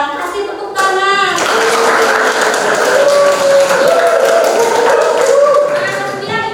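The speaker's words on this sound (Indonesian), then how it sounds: "Kasih tepuk tangan." A classroom of students bursts into applause for a classmate, a dense burst of many hands clapping close by for several seconds, with a few voices around it.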